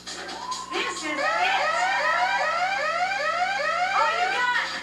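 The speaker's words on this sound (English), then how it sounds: "Listen to the siren." A loud siren wails in a rapid, repeating up-and-down sweep, each rising tone following the last in steady succession, close and prominent during a workout routine.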